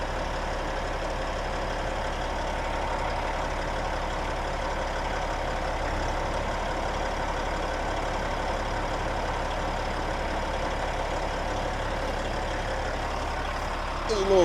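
A Peterbilt 379 truck engine idles close by during an AC repair, giving a steady, loud, low drone that holds unchanged from start to finish.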